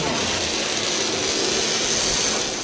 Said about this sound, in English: Some of the sound of that biplane was I pitched it up and made it higher pitched sound out of it for the Geonosian fighters.